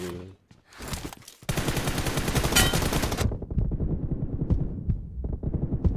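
Automatic weapon fire in the mobile battle royale game PUBG Mobile: loud, close rapid-fire bursts that run almost continuously for several seconds, then break into scattered single shots and shorter volleys.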